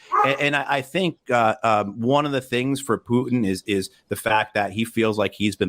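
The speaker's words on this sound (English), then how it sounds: "And I apologize for my dog." A dog barks and yips in short bursts in the background of a room while someone talks steadily over it, the barks partly buried under his voice.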